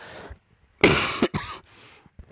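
A person coughs and clears their throat during a vMix streaming broadcast, two or three close, loud, harsh bursts in quick succession followed by a fainter throaty rasp, with no talking.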